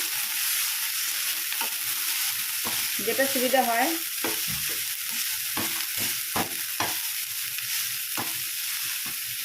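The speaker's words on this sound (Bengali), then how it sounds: "এবারে একটা মেশার সাইজে আমি এটা ম্যাশ করে নিচ্ছি" Green peas are mashed in a hot pan as a filling for peas kachori. Repeated soft thumps and scrapes come over a steady sizzle, and a voice speaks briefly.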